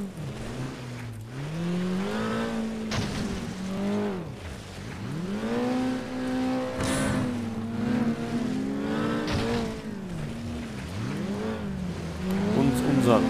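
A race car in the video game FlatOut roars and revs hard, its engine pitch rising and falling continuously as it accelerates and shifts, loud and close with a steady rush of noise behind it.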